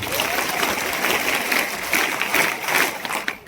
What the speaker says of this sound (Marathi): यांच्यासाठी एकदा जोरात टाळ्या झाल्या पाहिजे.